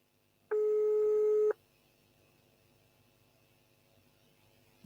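A telephone ringback tone sounds once as a steady, clear electronic note lasting about a second, followed by a faint background hiss on the line.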